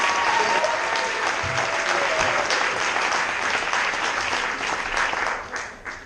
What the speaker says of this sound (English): That is worthy of applause